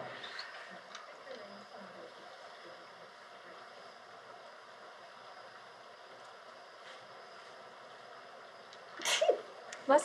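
A single brief sneeze near the end of a quiet casino baccarat table scene, with soft background hum and faint handling noises before it.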